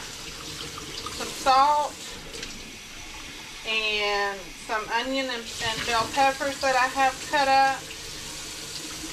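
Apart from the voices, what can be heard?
water running from a kitchen tap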